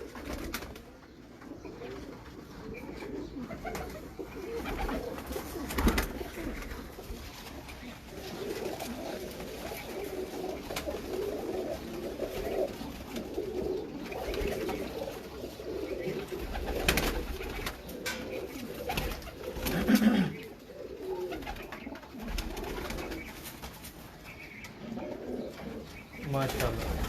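Sialkoti breeder pigeons coo in a loft, a continuous low murmur of overlapping calls from several birds. It runs throughout with people talking at moderate loudness.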